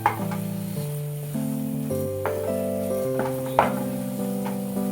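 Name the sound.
mango barfi mixture frying and being stirred in a pan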